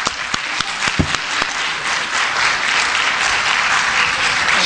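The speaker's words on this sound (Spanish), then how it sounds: "Por favor, para quien pide un fuerte aplauso" Audience applause at a crime-prevention and mediation conference, a few sharp claps at first swelling into a steady, dense round of clapping from a crowd in a hall, with no talk over it.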